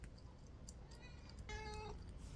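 A pet cat gives a single short, faint meow in a quiet room, a thin tonal cry lasting under half a second amid low background hum.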